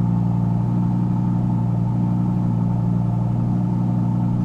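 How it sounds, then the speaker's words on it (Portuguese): An Audi's engine idles on a cold start at about 1500 RPM, a steady, close, even drone with a low throbbing rumble that holds constant and never revs. "Ele tá no cold start, tá em 1500 RPM. Se liga esse barulho."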